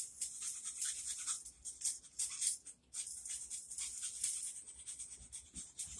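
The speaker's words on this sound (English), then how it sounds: "Just run the file through there." Metal file rasped back and forth through a hole in a trap to clear burrs, a quiet, close scratching in short irregular strokes with brief pauses and no voices.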